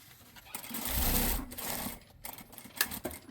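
A sewing machine stitching polyester blouse fabric in a short close burst of rapid needle chatter, then pausing, with a few light clicks and taps afterward.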